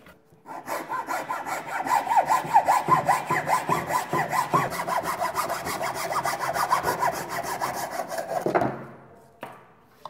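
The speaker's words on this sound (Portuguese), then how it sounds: "Agora com uma serra vou fazer o recorte." A hand saw cuts through wood for a screen printing table in fast, rhythmic back-and-forth strokes. The rasping is close and loud for about eight seconds, then stops abruptly, followed by a couple of faint knocks.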